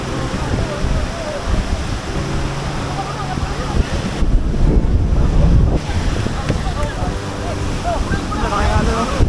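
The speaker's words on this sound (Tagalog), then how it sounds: "Oh, dalaking alon, no?" Large ocean waves rolling and breaking around a small boat out at sea, with heavy wind buffeting the microphone throughout and a continuous roar of surf and water.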